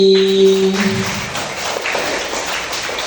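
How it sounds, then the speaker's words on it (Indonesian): A class of students applauding, a broad roomful of clapping that begins after a short sung or called tone and carries on steadily, close and loud, fading slightly toward the end. "Tepuk tangan untuk pembelajaran hari ini."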